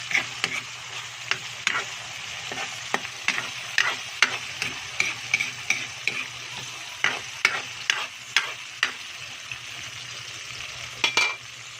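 Shrimp fry in hot oil with a steady sizzle, while a utensil stirs and taps against the pan in regular clicks throughout.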